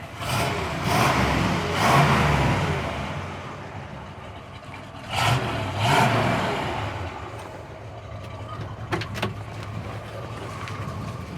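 A largely original 1967 Chevrolet Impala Fastback Super Sport with a 396 V8 and four-speed idles and revs a couple of times, a loud, close rumbling engine with swelling blips, heard alone without talk.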